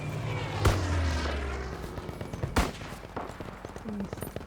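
Gunfire crackles in Battlefield V, with two sharp, loud shots standing out among scattered quicker pops and rattling bursts, set against a dense battlefield background.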